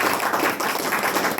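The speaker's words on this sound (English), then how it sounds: "would everybody give her a round of applause?" Audience applause from a presentation crowd: a dense, steady patter of many hands clapping briefly, moderately loud, with no talk.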